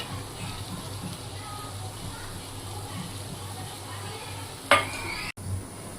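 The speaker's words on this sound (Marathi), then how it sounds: "थोडंसं आपण तेल सोडणार आहोत." Battered bitter gourd slices sizzle gently in oil on a griddle, a low steady crackle under talking, broken by a sudden bright splash of fresh oil hitting the hot surface near the end.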